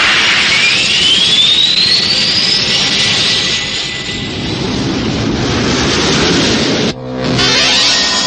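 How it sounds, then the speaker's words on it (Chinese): A sci-fi spaceship engine starts up on a Chinese-dubbed tokusatsu TV series, a loud, steady jet-like roar with a rising whine that cuts out briefly near the end before surging back. "发动机启动。"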